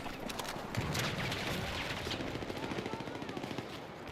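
Rapid automatic gunfire in Battlefield 6 multiplayer rattles steadily throughout, a dense stream of close shots with heavy recoil, loudest early and continuing as a fast rhythmic burst.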